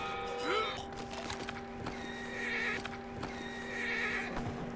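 Red Dead Redemption 2: a game horse gives a clear whinny, then hooves clip-clop steadily while soft voices murmur underneath.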